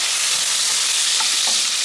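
Nuts and raisins fry in pure ghee for jorda semai, a dense, loud, continuous sizzle with faint stirring and no voices.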